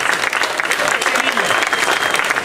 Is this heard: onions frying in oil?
no